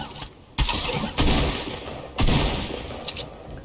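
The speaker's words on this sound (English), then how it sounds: "I got an assault rifle." Assault rifle gunfire in the video game Fortnite: three loud, close bursts of shots at roughly half-second, one-and-a-half and two-second marks, each decaying into a rumbling tail, with no talking.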